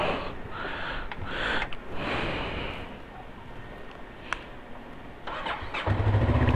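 A motorcycle engine cranks over in a few bursts, pauses, then catches and settles into a low, steady idle nearby.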